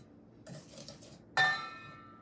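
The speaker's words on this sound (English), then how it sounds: "whisk this up into a nice mixture" A whisk works cake batter for a Yule log cake in a bowl: a soft, scraping rattle for about a second, then a sharp clink of metal on the bowl that rings and fades.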